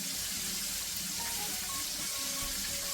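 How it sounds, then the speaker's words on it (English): Steady, close sizzling of chicken frying in a hot cast iron pan, continuous and fairly loud with faint clinks underneath. "chicken fries so well in the cast iron"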